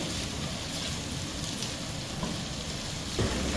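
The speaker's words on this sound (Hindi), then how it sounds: "जिंजर गार्लिक का पेस्ट, ग्रीन चिलीज डालते हैं और अगेन हम इसे 2 मिनट्स तक के लिए चलाते हैं" Ginger garlic paste and green chilies frying in a pan for spicy Bohri Mohalla style chana batata: a steady, dense sizzle that continues without a break, close by, with a faint scrape of stirring near the end.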